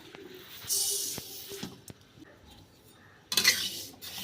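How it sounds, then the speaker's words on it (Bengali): Moong dal dry-roasting in a dry pan, with a spatula scraping and clinking against the metal in short irregular bursts, a faint rattle of grains between strokes, and a louder burst of scraping near the end. "প্রথমে ডালটা আমি শুকনো খোলায় অল্প করে ভেজে নেব"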